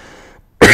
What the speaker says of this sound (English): I seem to be coughing a lot today.